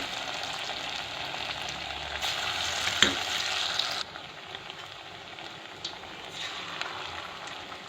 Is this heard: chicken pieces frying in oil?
yes